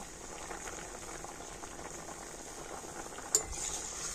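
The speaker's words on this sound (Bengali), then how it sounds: "ফুলকপিটা কিন্তু হালকা সিদ্ধ হয়ে গিয়েছে" Cauliflower simmering in a pot of water gives a steady low bubbling boil, even and continuous, with one sharp brief clink near the end.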